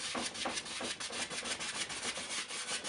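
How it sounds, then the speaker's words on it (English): A paintbrush drags oil paint across canvas in criss-cross X strokes for a landscape, a close, rhythmic scrubbing and rubbing, steady and fairly quiet with no voices. "You can see we're going in X patterns like this, making these X strokes"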